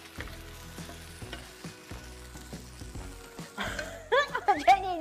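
An oyster omelette fries in a hot pan with steady sizzling and sharp spatula scrapes and knocks at an uneven rhythm, ending with louder clatter as voices chime in.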